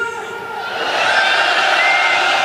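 A large crowd roars and shouts together at a nighttime candlelight protest rally with the candles put out, a sustained loud mass cheer that swells and holds steady.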